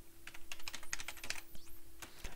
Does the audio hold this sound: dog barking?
no